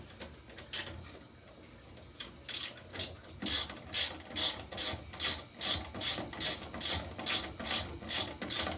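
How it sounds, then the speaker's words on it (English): A ratchet loosens a joystick bolt on a Tapper arcade cabinet's control panel, with a run of rapid, evenly spaced clicking strokes, close and distinct, following a few scattered clicks with no talking. "I'm just loosened up that one joystick bolt"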